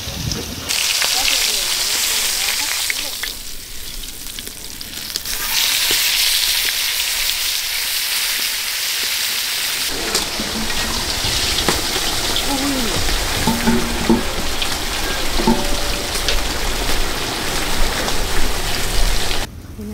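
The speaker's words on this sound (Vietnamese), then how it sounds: "Muối mặn mình là chiên ăn chung với canh." Salted fish frying in a pan, a dense crackling sizzle with hiss running throughout, shifting in intensity partway through, with no speech over it.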